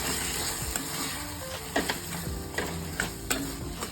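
Coconut sambar with brinjal cooking over a low flame, a continuous close sizzle with several sharp stirring clacks of a spoon against the pot in the second half.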